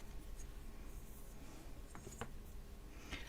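Paper being cut for a winter holiday craft, with faint scratchy snips and rubbing strokes, a few brief sharper cuts near the end, close and quiet with no talking.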